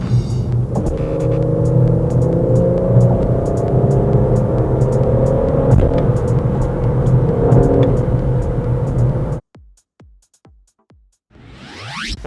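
An Aston Martin sports car revs and accelerates hard while overtaking on a public road. The engine note is loud, steady and close for about nine seconds, then cuts off abruptly, leaving a few faint knocks before the noise rises again.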